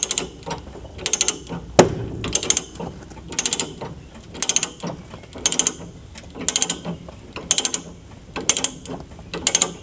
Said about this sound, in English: Let's see if I can winch this hard enough to make any difference.